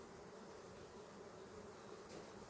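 Honey bees swarm over a heavy donor frame of honey, a dense, steady buzzing hum close by that fills the whole moment without pause.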